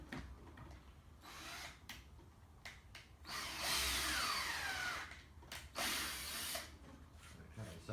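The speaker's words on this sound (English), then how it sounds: "I'm just going to run through with the M4 thread tool, just to make sure that I've got a nice thread started off in there for the M4 bolts" An M4 thread tap is run into the holes of a motor mount housing, giving a fairly faint, close whirring and grinding that comes in bursts with short pauses, and nobody speaks.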